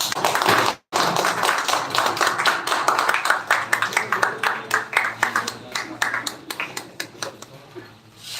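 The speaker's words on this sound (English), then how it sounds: "Clap for him." A classroom audience claps for a student at a public speaking session, a dense run of hand claps lasting several seconds after a brief pause, thinning toward the end.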